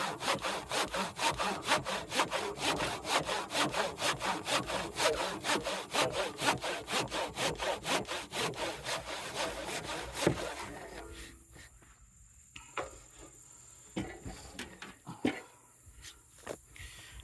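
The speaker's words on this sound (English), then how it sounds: "let the saw do the work" A hand saw cuts through wood during a well house build, with fast, even back-and-forth strokes for about ten seconds, then quieter scraping and a few knocks.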